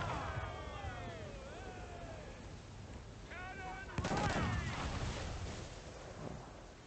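Ship cannons firing during a naval battle in Assassin's Creed 4: Black Flag, a sudden booming blast that rises out of wind and sea ambience, with game voices heard faintly beforehand.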